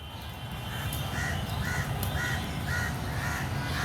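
A crow caws repeatedly in an even rhythm, about seven harsh calls, over steady outdoor background noise in a rain-soaked park in Dhaka.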